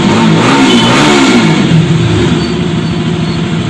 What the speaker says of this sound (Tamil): பைக்கும் ஸ்டார்ட் ஆகிடுச்சு.